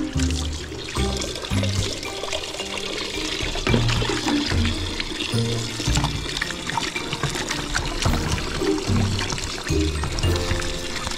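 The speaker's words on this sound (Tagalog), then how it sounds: "Tubig." Water runs and splashes continuously, pouring and trickling at moderate loudness with some clattering knocks mixed in, no speech.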